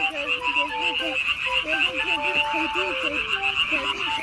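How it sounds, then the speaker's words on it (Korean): Frogs croaking continuously in a dense chorus at night in the city, with repeated warbling calls over a steady high trilling background of insects or more frogs. "여기 개구리 소리가 들려서 와봤는데"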